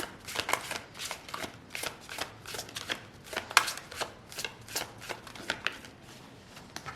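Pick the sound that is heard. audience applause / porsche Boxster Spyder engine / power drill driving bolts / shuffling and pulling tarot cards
shuffling and pulling tarot cards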